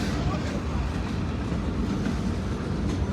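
A freight train passes at night in Hicksville, making a continuous loud rumble and rattle of wagons rolling close by.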